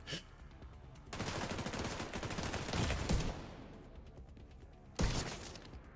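Sustained turret gunfire in a video game, a dense rapid stream of shots lasting a couple of seconds, with a single sharp blast before it and another loud burst after a pause.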